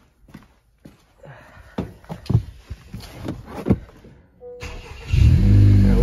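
Honda Accord fitted with a flex fuel kit: a series of clunks and rustles, then the engine cranks and fires, settling into a loud, close, steady idle.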